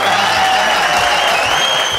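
A studio audience on a Kannada celebrity chat show claps steadily for about two seconds, a dense, loud wash of hands that fills the whole stretch, with a faint sustained tone running underneath.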